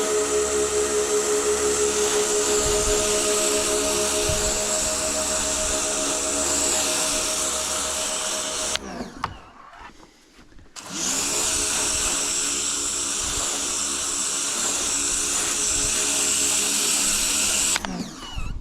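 A Stanley SXFPW27DTS pressure washer runs loud and steady with a droning motor whine while it sprays shampoo. It stops briefly in the middle, then starts again at full strength.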